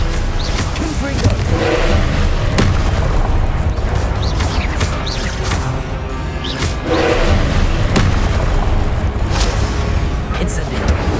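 Repeated Confringo spell blasts in Hogwarts Legacy, with loud, close booming explosions and crashing impacts over a constant roar of combat, broken by sharp cracks at irregular moments.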